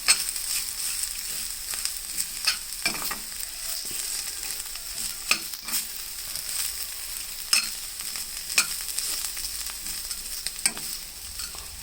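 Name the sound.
bitter gourd fry cooking in a pan with chili powder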